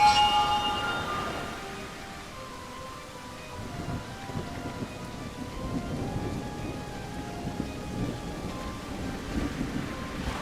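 Steady rain with low rolling thunder in the Xbox Series X game Genie Reprise, the storm wash holding at an even, moderate level across the clip with a louder swell at the very start and no voices.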